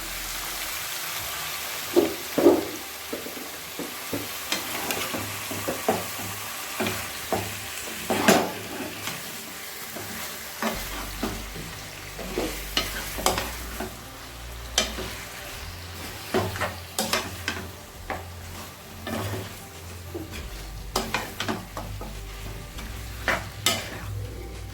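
Chicken with smoked bay leaf is stirred while frying in a pan, making a continuous crackling sizzle broken by repeated clattering spoon scrapes and taps in an uneven rhythm, close and fairly quiet, with no speech.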